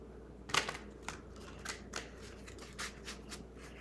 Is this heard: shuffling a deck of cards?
yes